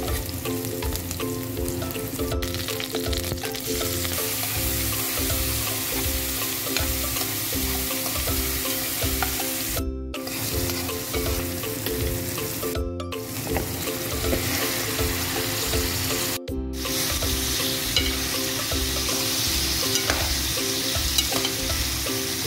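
Vegetables sauté in a hot pan for an Ilocano-style dish with fried fish, a continuous loud sizzle with occasional stirring scrapes and brief cuts, over soft background music and no talking.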